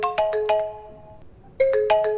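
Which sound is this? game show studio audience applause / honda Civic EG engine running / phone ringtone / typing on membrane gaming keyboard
phone ringtone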